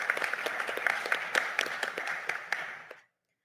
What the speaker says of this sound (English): So I'd like to give a round of applause to the government in its entirety for helping us with that.